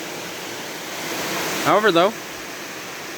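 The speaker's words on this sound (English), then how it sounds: "right now we're actually looking along Clark Creek running through here" Clark Creek in Lost Valley flows as a steady broadband rush of water throughout, with a brief stretch of someone talking over the stream partway through.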